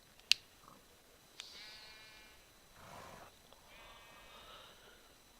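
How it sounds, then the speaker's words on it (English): Minecraft sheep bleat in an FTB Tech World modded game, two faint wavering bleats spaced apart, preceded by a few soft clicks, quiet with no talk. "let's go see the sheep"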